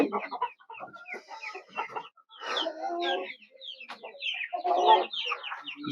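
Red Fayoumi laying hens clucking nearby in a backyard coop, a series of irregular, close clucks and cackles with short pauses between bursts.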